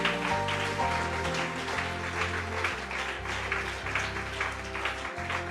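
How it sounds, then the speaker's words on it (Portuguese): A church congregation applauds during a worship service, with steady, continuous clapping that blends with music playing throughout. "Damos um aplauso para Jesus."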